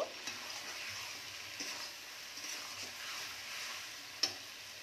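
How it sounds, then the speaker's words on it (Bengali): Spice paste for a shol fish curry with radish is sautéed in a pan over a medium flame, a soft steady sizzle with gentle stirring scrapes and one sharp tap of the utensil near the end, no voices. "আমি গ্যাসটা মিডিয়ামে রেখে 2-3 মিনিট ভালো করে আমি কষে নেব।"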